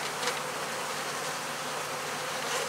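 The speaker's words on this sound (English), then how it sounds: "these bees have had a desire to swarm" Honey bees buzz at an open hive that is inclined to swarm, a dense, continuous close-up hum with no talk.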